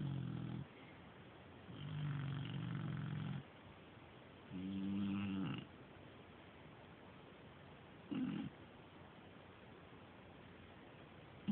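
A pet dog snores at 1 a.m., with slow rhythmic rasping snores repeating every few seconds, close and fairly quiet against a faint background hiss, with no talking.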